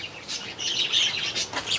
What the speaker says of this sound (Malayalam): ഇവിടെ കുറേ കിളികൾ.